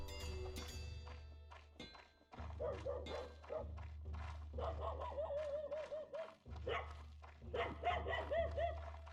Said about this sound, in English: Shut up, dog.